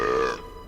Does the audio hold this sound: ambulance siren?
no